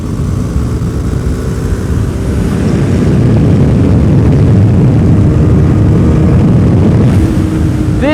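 A KTM RC390 small-displacement sport bike roars steadily while being ridden, its engine note loud and close under heavy rushing wind noise that swells slightly midway and holds to the end.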